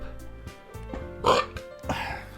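A short burp-like sound lands as a sudden, loud throaty gulp in the middle, followed by a second breathy gulp, close up and alone without speech.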